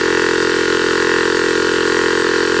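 An old, roughly five-year-old 12V air compressor with a repaired cylinder leak runs loud and close, giving a steady, even mechanical drone with no talk over it.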